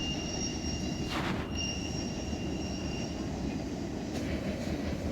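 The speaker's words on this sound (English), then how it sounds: "There goes the end of the train." A train rolling across a railroad bridge over a river, with a steady rumbling roar, high metallic wheel squeals and hiss, heard continuously from nearby without any talking.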